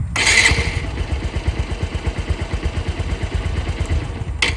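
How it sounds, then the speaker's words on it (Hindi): Motorcycle engine started without its key, catching with a loud burst then settling into a steady, rapid idle thump that runs on close by without speech. "तो आपने देखा बिना चाबी का बाइक स्टार्ट हो चुका है।"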